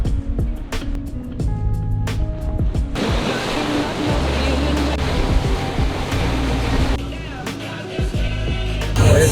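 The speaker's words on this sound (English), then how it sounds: "This boat is very fast and very loud." Fast, loud powerboat tearing across the sea off Jamaica, a steady roaring engine blended with rushing, slapping water and spray, with bursts of talk in the first seconds.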